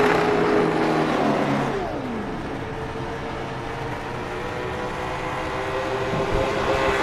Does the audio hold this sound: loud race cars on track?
yes